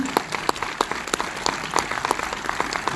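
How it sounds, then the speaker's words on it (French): An audience in a Kinépolis cinema in Thionville applauds a film director at a premiere event, a sparse, uneven patter of scattered claps from a moderately sized crowd, a few claps standing out close by. "On va l'applaudir."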